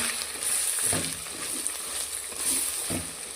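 Eggplant sizzling in oil in a pan while being stirred with spice powder for vangibath, steady frying hiss with soft periodic scraping strokes of the spoon.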